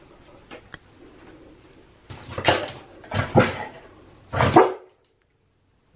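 Harlow, a dog, gives three loud, close barks in quick succession on cue, with quieter shuffling and clicks before them.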